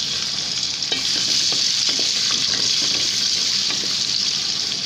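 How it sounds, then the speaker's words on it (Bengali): Chopped onions fry in hot oil in a pan with cinnamon and cardamom while making plain pulao, a loud continuous sizzle with scraping stir strokes throughout, no voices. "পেঁয়াজটা আমি হালকা ভাজবো"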